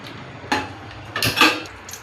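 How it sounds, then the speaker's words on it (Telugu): A metal pan is set down on a kitchen stove before bread pieces are fried for bread halwa. A couple of brief clanks and knocks sound close by, with quiet in between. "ఒక ప్యాన్ తీసుకొని స్టవ్ ఆన్ చేసుకోవాలి"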